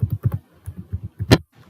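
Keys on a computer keyboard are pressed in quick bursts of close clicks, ending with a louder sharp tap, as a command is typed in a software tutorial.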